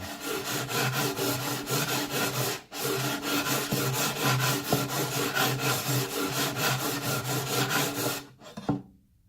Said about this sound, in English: just 2 passes with the sandpaper, buffed it right off